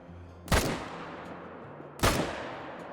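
Rifle gunshots in the hunting video game theHunter: Call of the Wild: two loud, sharp cracks about one and a half seconds apart, each followed by a rolling echo that fades out, with no talking.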